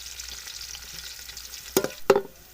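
Onion frying in hot oil in a village home kitchen: a soft, steady sizzle, then two sharp scraping stirs near the end, close up with no voices.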